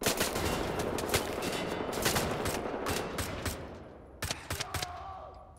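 Suppressed pistol fire in the video game Wolfenstein: The New Order, a rapid string of sharp shots over dense game noise, then a few louder isolated shots near the end.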